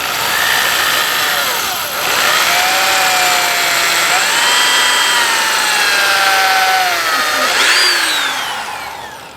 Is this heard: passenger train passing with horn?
no